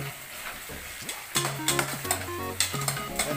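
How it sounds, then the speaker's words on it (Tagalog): Chicken sauté frying in a pot with carrots, stirred with a utensil: constant loud sizzle with repeated scraping strokes and light clanks against the pot, close up, no talking. "Halo natin ulit."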